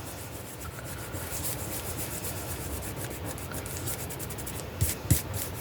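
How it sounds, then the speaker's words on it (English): Steady dry rubbing of dried Fabrifix glue being worked off a paper junk journal slider, a continuous scuffing texture with a couple of sharper scrapes near the end and no talking. "I need to rub off all this glue real quick."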